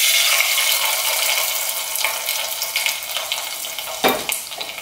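Hot tempering of mustard seeds and curry leaves is poured onto kachil puzhukku, giving a close, loud sizzling hiss that slowly fades, with a sharp burst of crackle near the end.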